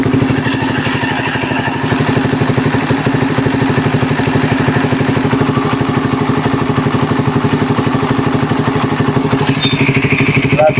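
A motorcycle engine idles after an oil change, its close, loud, steady chugging pulse running evenly and unbroken throughout.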